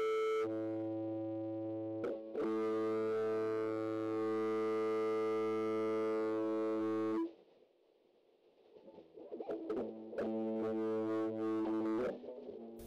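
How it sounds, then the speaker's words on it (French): An electric guitar's fifth string rings out with heavy distortion and long sustain, a loud harmonic-rich tone held for about seven seconds, then a softer pause and the note struck again. "Vous entendez qu'avec le sustain et la distorsion, le son est plus audible et vous pouvez l'accorder plus précisément."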